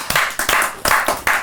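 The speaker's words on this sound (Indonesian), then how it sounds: "Tapi semuanya tepuk tangan dulu buat Magna Tama." A small group claps briefly in a studio talk-show setting, four or five loud, close bursts of clapping in quick succession.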